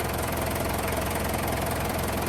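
A misfiring car engine runs steadily up close, a dense, rough broadband rumble with an uneven knocking texture throughout, no voices over it.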